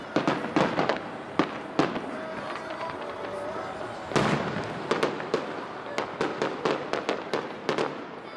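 Fireworks at a July 4th show in Sparks, Nevada burst in a rapid irregular series of sharp bangs and crackles, some loud and close, others fainter, with a crowd murmuring in the background.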